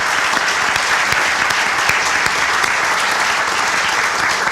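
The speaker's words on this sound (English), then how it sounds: "Let's give them a big round of applause" Sustained audience applause at a stadium groundbreaking ceremony, a dense, steady wash of many hands clapping throughout, fairly loud and close, with no talk over it.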